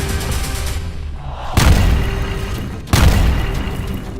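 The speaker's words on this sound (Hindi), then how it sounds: "एक तरफ गाजा पर बमबारी हो रही है" Explosions from bombing in Gaza, two heavy booming blasts a second or so apart, loud and close, each followed by a rumbling broadband roar that lingers over a constant background din.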